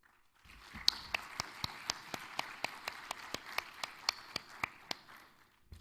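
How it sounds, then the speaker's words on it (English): An audience at a youth development and financial inclusion event claps in a steady, rhythmic beat, with sharp, evenly spaced claps over a soft crowd hum. "Ladies and gentlemen, let's give him a round of applause."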